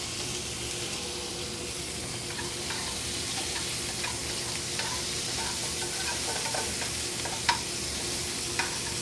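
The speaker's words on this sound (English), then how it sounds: "So just put the swordfish in here, fresh pan" Swordfish fries in a fresh pan with an even, continuous sizzle up close, with a couple of sharp ticks near the end and no talking.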